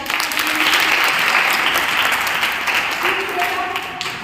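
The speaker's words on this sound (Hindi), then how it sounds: "जोरदार ताली" Loud, sustained clapping from an audience at a menstrual hygiene awareness program, holding steady throughout with a dense, continuous texture that eases slightly near the end.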